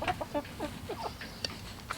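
Chickens cluck softly inside a backyard coop, a quick run of short, fairly faint calls over a low background rumble.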